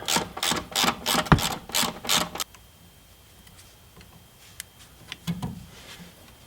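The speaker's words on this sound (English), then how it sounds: "get you a T40 Torx, and that's going to take off your brake line from the wall here" A T40 Torx ratchet clicks rapidly through several strokes while removing a brake line bracket bolt on a Jeep Cherokee XJ, close and crisp, then stops, leaving quiet handling noises and a faint clunk.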